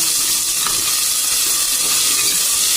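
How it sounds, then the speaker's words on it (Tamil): Ginger garlic paste fries in about 50 ml of oil, giving a steady, loud hiss and sizzle that runs unbroken with no voices. "கொஞ்சம் எண்ணெய் விட்டு ஒரு 50 மில்லி எண்ணெய் விட்டுங்க. இஞ்சி பூண்டு பேஸ்ட்டுங்க போட்டுங்க."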